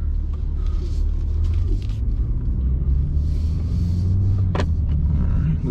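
A BMW G80 M3, fitted with a newly replaced steering rack, drives along a road, giving a continuous low cabin rumble of engine and tires, with one short sharp click partway through.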